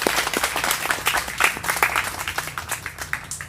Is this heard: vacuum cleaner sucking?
no